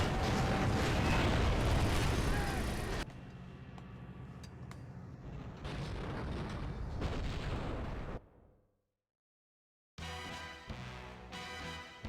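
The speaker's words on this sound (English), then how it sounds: "I shortened some distance using an explosion boost bunny hop" Explosions in the video game 007: Agent Under Fire, a loud booming blast with rumbling debris, followed by quieter game noises and further bursts, a brief dead silence, then more game sound effects.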